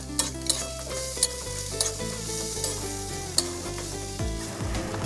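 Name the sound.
stirring crushed Maggi noodles frying in a pan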